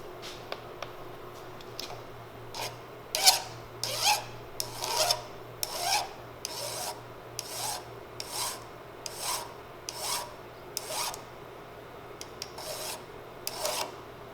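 Rhythmic rasping strokes of a file on a metal ramrod tip, about one per second, close by and fairly quiet, with a faint steady hum underneath.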